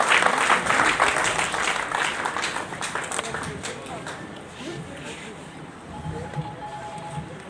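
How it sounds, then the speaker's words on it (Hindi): Audience applause at a teachers' association stage event, a broad wash of clapping that is loudest at the start and thins toward the end, with a voice speaking over it. "तालियां बजाइए, तालियां बजाइए आपके लिए।"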